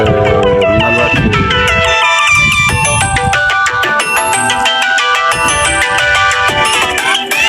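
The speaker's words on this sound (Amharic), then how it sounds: "ስልክ ይጮሃል" A mobile phone ringtone plays loudly and continuously, a bright repeating melody that fills the whole stretch without pause.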